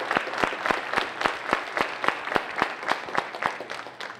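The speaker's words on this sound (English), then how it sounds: "Let's give a round of applause for our panel." A sparse audience claps for a panel at a science of reading summit, individual hand claps standing out in a fairly steady rhythm, close and moderately loud with no talk over them.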